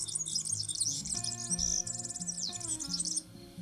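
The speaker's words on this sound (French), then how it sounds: "Un chasseur prit au piège un petit oiseau couleur jaune," A small yellow canary chirps in rapid high trills and tweets over a soft musical backdrop, bright and close, with brief pauses between bursts.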